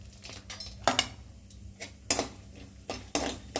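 Almonds drop into a pan while rava laddu is being made, a few sharp clinks and light metallic taps scattered irregularly over a faint low hum, close by and fairly quiet.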